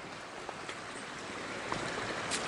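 Creek water running down a hiking trail on the Appalachian Trail makes a steady, faint rushing hiss, continuous and unbroken with no talking.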